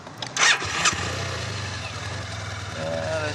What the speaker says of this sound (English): it can be started from standstill in 2nd gear as well